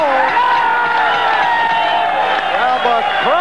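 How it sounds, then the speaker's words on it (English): A boxing crowd cheers and roars at the end of a close, gutty bout involving Bobby Chacon, a loud sustained mass of voices and whoops with a commentator talking over it. "And the crowd reacts."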